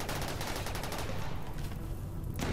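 Rapid gunfire from the RimWorld video game, a dense crackling volley of overlapping shots at moderate volume.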